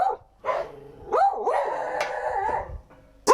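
A dog gives several sharp barks and a drawn-out howling yelp, close and loud, with short pauses between the outbursts.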